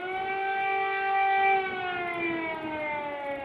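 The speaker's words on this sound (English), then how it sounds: "Sirens heard in Ukraine's capital of Kyiv" A civil defense siren in Kyiv, Ukraine, drones with a sustained wail at a distance, its tone slowly sliding lower, with no other sounds.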